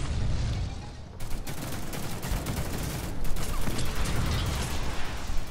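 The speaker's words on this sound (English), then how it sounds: "as I'm trying to shoot my own teammates" Rapid gunfire bursts crackle in a first-person shooter match, dense and loud, with mechanical clatter and overlapping shots forming a continuous fusillade.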